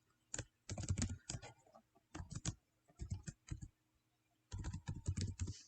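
Quick bursts of typing on a computer keyboard while entering login details, clustered keystroke runs separated by short pauses, close and fairly quiet with no talking.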